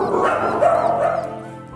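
Dogs chained inside an abandoned building bark and whine in a brief, close burst, with several overlapping voices echoing in the empty space.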